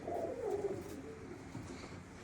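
A Buhara pigeon coos close by in soft, low, rolling phrases, a few short murmuring calls with quiet background noise and no voices.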